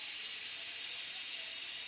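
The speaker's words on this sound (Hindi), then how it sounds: "अब हम अपना प्रेशर खोलते हैं" A pressure cooker vents steam after cooking mutton karahi, a loud, steady, high hiss that holds unbroken throughout.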